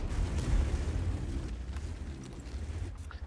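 A tank cannon fires in a tank video game, a heavy low boom at the start trailing into a rumbling, slowly fading roar.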